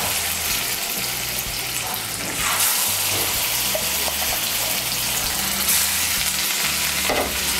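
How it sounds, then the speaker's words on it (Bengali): Katla fish pieces rubbed with salt and turmeric fry in hot mustard oil in a kadai, giving a loud, continuous crackling sizzle that swells slightly partway through. "এর মধ্যে প্রথমে আমি নুন হলুদ মাখানো মাছগুলো ভেজে নেব।"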